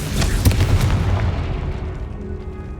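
A Confringo fire spell explodes in Hogwarts Legacy, a loud booming blast with a heavy low rumble that hits early and then rolls on, fading slowly over a few seconds with no talk.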